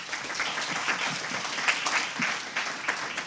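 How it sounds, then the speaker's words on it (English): An audience at a startup demo day breaks into sustained applause, a dense, steady wash of many hands clapping close by with no talk over it. "the biggest round of applause goes to Piotr over here."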